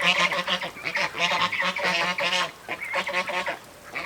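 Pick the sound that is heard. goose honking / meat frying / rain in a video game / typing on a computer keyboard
goose honking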